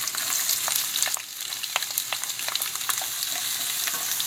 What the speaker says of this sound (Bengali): we are gonna fry the onions until it gets brown